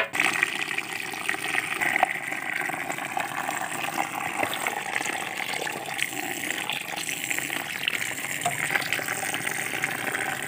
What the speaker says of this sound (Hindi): पीसने के बाद अब इसको हम पानी से वॉश कर लेते हैं